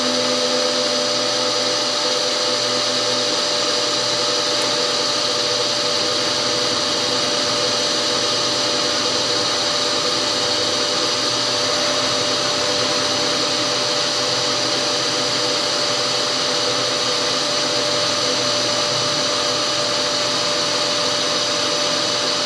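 A CNC machine cuts a cam follower with its spindle RPM raised: a loud, steady whir with a constant high whine holds for the whole stretch, with no pauses and no voices.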